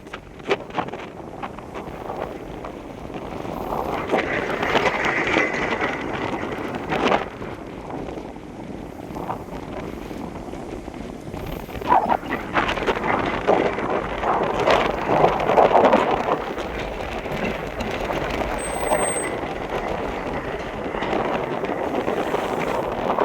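Strong wind at Roxas Port buffets the microphone in a continuous rushing roar, with gusts swelling and fading, and faint water sounds underneath.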